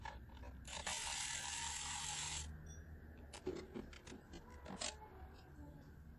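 Ratchet with a 10mm socket loosening the timing belt front cover bolts on a 2006 Acura TL, a close whirring spin followed by a series of sharp individual ratchet clicks and knocks.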